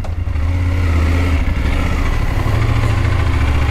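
A new BMW motorcycle engine runs steadily at close range, loud and continuous, with a deep idling rumble and small surges in throttle.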